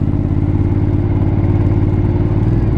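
Aprilia Shiver 900 motorcycle being ridden, a steady low engine drone with a throbbing pulse and faint mechanical clatter, close and continuous with no speech.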